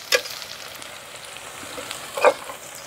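Onions fry in a pan, a faint, quiet sizzle with a couple of brief louder crackles or stirs, no voices heard.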